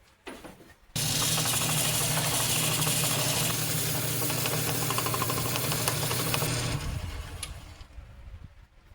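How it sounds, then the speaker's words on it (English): Sandpaper is held against a pine wood knife handle spinning on a lathe, giving a loud steady hissing rush over the motor's hum that lasts about six seconds. It then fades as the lathe spins down. "run sandpaper on it while it's lathing"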